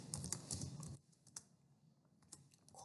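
Quick, faint typing on a computer keyboard, a dense patter of soft key clicks that thins into a few scattered taps after the first second.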